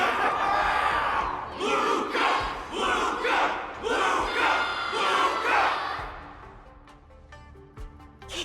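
A large crowd cheers and shouts in rising, surging waves during a martial arts ceremony event in Honkai Star Rail, loud and sustained before fading away into quieter tones.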